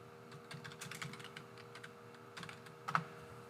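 Computer keyboard typing while filling in a spreadsheet, with quick bursts of soft, close keystrokes and brief pauses, ending in one sharper, louder key press near the end.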